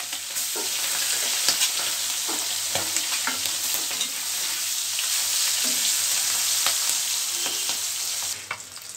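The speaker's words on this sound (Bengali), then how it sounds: "মাছগুলো সুন্দর করে ভেজে নিতে হবে" Tengra fish fry in hot oil in a pan with a dense, constant crackling sizzle and occasional bursts of spattering. Soft scrapes of stirring sound throughout, close and fairly loud, with no speech.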